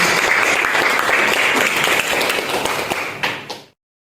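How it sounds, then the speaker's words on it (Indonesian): Teachers at a school gathering clap together in a dense burst of applause that holds steady, then tapers off and stops abruptly. "selamat siang dan tepuk tangan buat kita semua."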